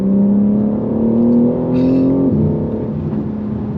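BMW M3 Competition G80 accelerating hard on the road with traction control off, a loud rising engine drone heard from the cabin that climbs steadily, then drops sharply on an upshift and continues, no talking.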